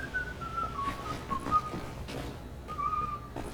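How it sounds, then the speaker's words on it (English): A character in the video game Wolfenstein: The New Order whistles a slow tune in a level melody, close and clear over quiet game ambience. "Wish he was whistling Drunken Whaler."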